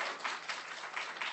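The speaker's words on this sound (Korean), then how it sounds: "박수." Applause from a church congregation at a Wednesday evening worship service, a steady broadband patter of clapping with small swells and no speech over it.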